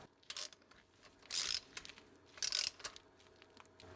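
A hand ratchet tightens plenum bolts on a 1980-1996 Ford Bronco/F150 engine: short bursts of crisp clicking, several separate strokes with pauses between, close and fairly quiet.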